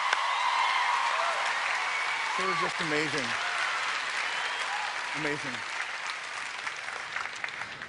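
Sustained audience applause at a televised singing competition battle round fills the clip from start to finish, with brief spoken remarks from a man heard over the clapping.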